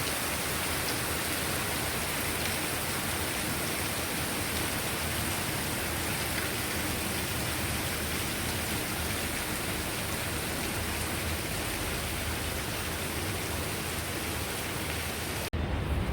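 Heavy rain pours down in a dense, constant hiss, loud and unbroken throughout with no voices.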